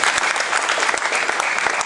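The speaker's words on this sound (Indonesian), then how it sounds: "Tepuk tangan yang paling meriah." An audience at a church sermon bursts into loud, continuous applause, dense clapping from many hands filling the moment.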